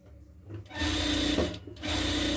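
A sewing machine runs in bursts while stitching folded salwar fabric for a semi-Patiala salwar, its rapid mechanical whir loud and close, pausing briefly between runs.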